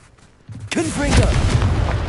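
A Confringo spell explosion in Hogwarts Legacy erupts after a quiet moment, a sudden booming burst with crackling debris, partly mixed with a brief vocal sound from a game character.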